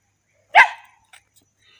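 A dog gives a single sharp, loud bark close by, followed by a few faint clicks and near silence.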